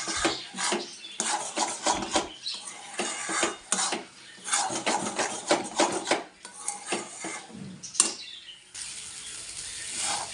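A utensil stirs taro chilli paste in a wok, scraping and clattering against the metal in quick irregular bursts, close and fairly loud, with brief pauses between strokes.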